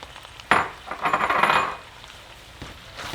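Serrano chiles, onion and tomato are stirred into a discada on a stovetop, giving a burst of metallic scraping and clinking that lasts about a second and then fades to quiet, intermittent utensil noise.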